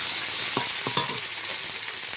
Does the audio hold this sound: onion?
yes